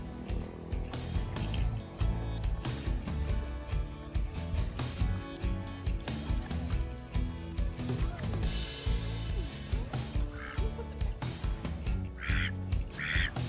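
Ducks quack repeatedly in their new outdoor pen and duck yard in a garden. The calls are fairly close and come in busy overlapping bursts over continuous background noise.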